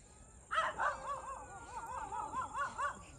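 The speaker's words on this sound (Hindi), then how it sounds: "उस साइड से डॉग भौंक रहे, 3-4 डॉग भौंक रहे।" Three or four stray dogs barking and yelping nearby outdoors, a run of repeated sharp yips and barks in an uneven rhythm after a brief quiet start.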